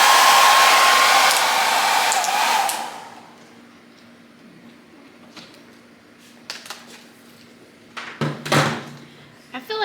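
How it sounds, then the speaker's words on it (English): A small handheld blow dryer roars loudly and steadily for about three seconds, fluffing leaves on homemade Halloween decor, then cuts off, leaving quiet handling knocks and light taps. "now we're gonna try the little blow dryer trick, see if it fluffs some of these out"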